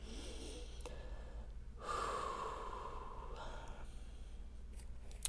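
Deep breathing during a vinyasa yoga flow: a long, audible exhale that swells and then fades, alongside softer breaths, close and quiet over a low steady hum.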